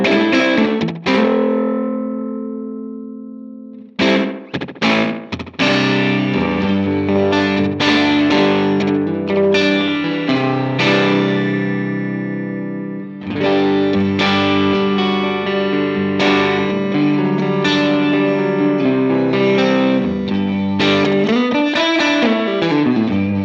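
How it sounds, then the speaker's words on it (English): Guitar played through a Line 6 Helix with a short slapback echo, each picked note and chord followed by a quick single repeat; loud, continuous playing with sustained notes and a few pauses, no talking. "we will enter the realm of just kind of a real typical kind of slapback echo."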